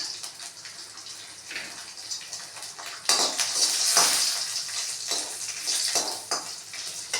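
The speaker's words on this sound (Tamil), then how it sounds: "பூண்டு நல்லா வதங்கும்" Garlic sizzles in a pan with tamarind and asafoetida, a close, bubbling frying hiss that swells louder partway through, with occasional stirring taps.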